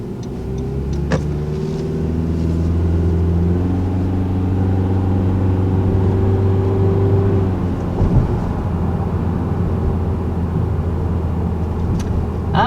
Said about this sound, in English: Now I'll go ahead and put it in a sport mode and see if that makes any difference with how the CVT behaves.